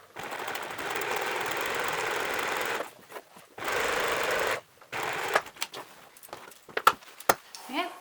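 A sewing machine stitching a seam along the short edge of fabric for a pull-string pencil case: two steady whirring runs of close, fast needle clatter, then scattered clicks and handling noises.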